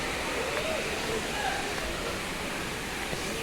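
Monkey Falls waterfall near Valparai, Pollachi, pours steadily at a normal flow, giving a continuous broadband rush of falling water, fairly even and close, with no talk over it.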